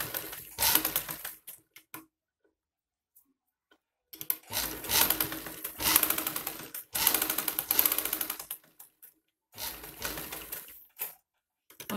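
Sewing machine stitching a high-neck Chinese collar on a kurti, running in a few distinct bursts of rapid mechanical whirring with quiet gaps between them, close and moderately loud.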